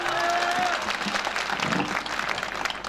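Audience applause at a Hindi comedy poetry show, a steady wash of clapping filling the hall for the whole stretch, with a voice faintly audible over it.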